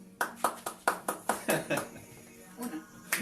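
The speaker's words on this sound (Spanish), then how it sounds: "Así que un aplauso" Clapping at a Christian devotional gathering in Quillota: about seven distinct, evenly spaced claps ring out close and clear in a quick rhythm, then thin into softer, scattered claps and fade.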